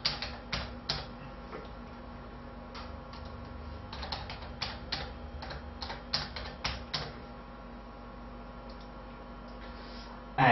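Username and password being typed on a computer keyboard: quick clusters of light key clicks in short runs with pauses, close and quiet over a faint steady hum, with no voices.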